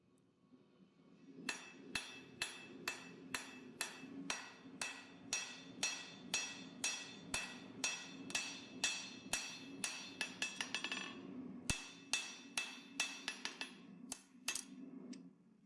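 Cold copper being hammered and shaped into a katana habaki: a steady series of sharp, ringing metal-on-metal strikes, close and loud, at an even pace with a brief pause before the blows resume.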